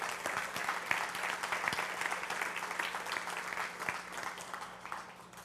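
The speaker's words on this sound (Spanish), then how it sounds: "Dale un aplauso al Señor." A church congregation applauds steadily for several seconds, a dense, even wash of many hands clapping at moderate distance with no voices over it.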